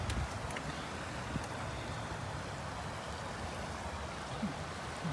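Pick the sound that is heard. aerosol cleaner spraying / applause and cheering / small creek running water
small creek running water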